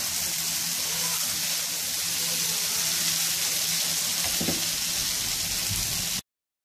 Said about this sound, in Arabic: يعني الخضار كله كده تقريبا نص سوا، يعني سوتيه كده